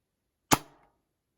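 Action Army AAP-01 gas blowback airsoft pistol firing a single sharp shot, a loud close crack with the slide snapping back and resetting, then silence.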